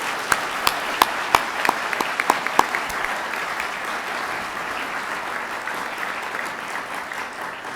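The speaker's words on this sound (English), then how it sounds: "Another round of applause for all of our community heroes." Steady applause from a sizable crowd, with a few sharp, distinct claps standing out early before the clapping settles into an even, sustained wash.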